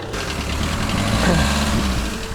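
An old diesel tractor engine, a Mercedes or Fiat farm machine, catches and settles into a steady, close, rumbling idle with a faint knock, no voices over it.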